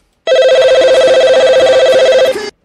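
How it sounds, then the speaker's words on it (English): A telephone rings with an incoming call, a single loud, continuous electronic ring lasting a couple of seconds and heard alone. "We're getting another phone call."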